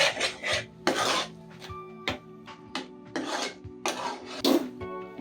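Egg bhurji stirred in a pan over low heat, a spatula scraping and rasping against the metal in repeated strokes, close and fairly loud with brief pauses between passes.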